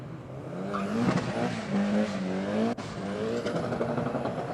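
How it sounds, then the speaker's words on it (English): A drag car on standard street tyres launches off the start line at Sydney Dragway with heavy wheel spin, a loud engine roar rising in pitch over tyre squeal, heard from the track side. "a lot of wheel spin off the start line"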